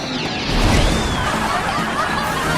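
Glass shatters in a Ben 10 cartoon circus scene, a sudden loud crash with ringing fragments that sustains briefly before cutting off.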